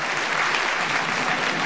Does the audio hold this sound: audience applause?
yes